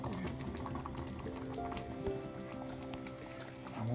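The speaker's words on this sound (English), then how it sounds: "We're definitely gonna have to add liquid." Liquid is poured into a cooking dish in the kitchen, giving a continuous gurgling, splashing flow close by against a soft background hum.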